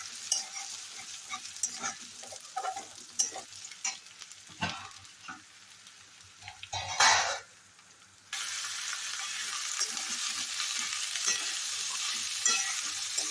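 Onion, capsicum and tomato sizzle in hot oil with chopped ginger and garlic, a steady crackling fry broken by scraping stirs, with a loud burst as the vegetables land and a denser sizzle afterward.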